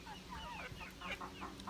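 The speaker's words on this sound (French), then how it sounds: "j'ai acheté un magnifique coq Leghorn blanc." A six-month-old white Leghorn rooster makes a run of soft, close clucks and short chirping calls, with a steady low background hum throughout.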